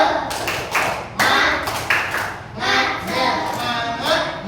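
A class of fifth-grade primary school children performs a rhythmic chant-clap routine, bursts of sharp group claps and taps in short patterned phrases, loud and close, with faint voices between.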